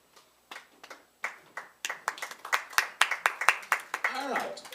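Scattered claps at an improv show build into a close, lively round of applause from a small live audience, with voices mixed in near the end.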